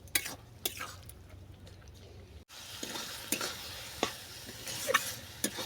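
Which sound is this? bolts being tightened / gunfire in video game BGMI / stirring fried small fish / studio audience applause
stirring fried small fish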